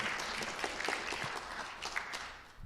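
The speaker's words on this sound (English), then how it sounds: "So give them a round of applause" An audience at a Unity Center service applauds the musicians, a steady wash of clapping held at moderate level for a couple of seconds before tapering slightly.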